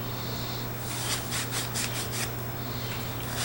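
A Scotch-Brite pad scrubs an old 1800s–1900s American three-inch single-chime brass steam whistle, giving close, rhythmic rasping strokes in quick back-and-forth bursts over a constant low hum, with no talking.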